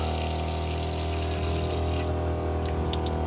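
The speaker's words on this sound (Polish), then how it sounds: "po prostu pompka załącza się sama, kiedy ciśnienie schodzi" Pressurized water pump in a VW T5 camper van running steadily, a loud continuous hum with a watery rush close by, no voices.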